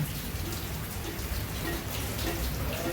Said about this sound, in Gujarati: તમે જોઈ શકો છો. વરસાદ ચાલુ છે.